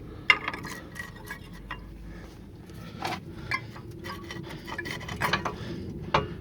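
Rear brake pads being worked out of a VW Touareg caliper: faint, irregular metallic scrapes, rubs and small clinks close by, with no talking.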